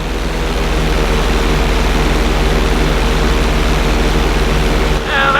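Stunt plane engine in the video game GTA 5 during flight school, a loud, steady propeller drone with a deep low hum that runs unbroken before cutting off abruptly near the end.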